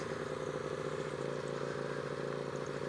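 A dirt bike ridden off-road, its engine holding a steady, even drone with a constant rattling pulse, fairly close and unchanging throughout, with no voices.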